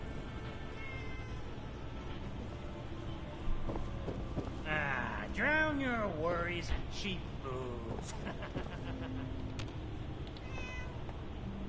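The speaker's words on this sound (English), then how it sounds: "Here, kitty. I love cats. Where's this cat?" A cat in the video game Fallout 4 Far Harbor lets out several drawn-out, wavering meows in the middle, under and between a character's spoken line against quiet game ambience.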